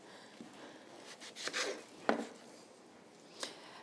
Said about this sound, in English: the way I cut a cantaloupe or melon is I cut